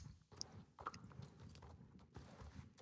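Horses' hooves clatter in an uneven, overlapping clip-clop as a small herd is driven along on foot, close by and moderately loud, with no voices.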